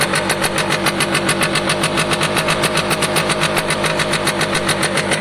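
A Piaggio Diesis 100cc two-stroke moped engine with an exhaust leak runs steadily with a fast, rattling pulse, loud and close, no voices.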